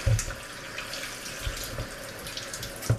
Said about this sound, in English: We want to rinse these off really quickly.